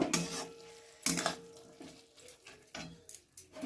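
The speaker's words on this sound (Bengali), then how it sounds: "দিয়ে এটাকে আমি নেড়ে চেড়ে নেব" Ground cumin is being stirred into a banana flower curry in a pan, giving several distinct scraping strokes of a spoon against metal with quiet sizzling in between, heard close and fairly soft.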